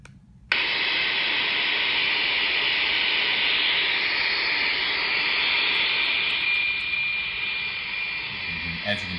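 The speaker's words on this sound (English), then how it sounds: "As you can tell, it's actually quite noisy, but now we can hear the tone of the data transmitting" Steady, loud data transmission tone buried in broadband hiss from a ground station radio link, starting abruptly after a brief quiet moment and holding for the rest of the recording with a faint pitched whine running through the noise.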